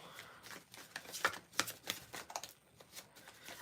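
Oracle cards are shuffled by hand in quiet, crisp riffles and flicks: a run of soft papery snaps and taps, close by and faint.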